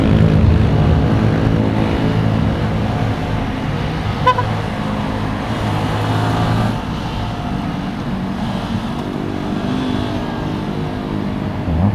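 A motorcycle rushes along an expressway at around 142 km/h, its hot engine drone steady and loud throughout, buried in heavy wind roar with a brief tonal toot partway through.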